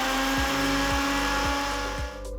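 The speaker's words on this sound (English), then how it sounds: "Blend it into a slightly coarse chutney for a nice crunch." Kitchen blender grinding sautéed radish, onion and coconut into a coarse chutney, a loud steady motor whine with rhythmic pulsing as the blades churn, then slowing at the end.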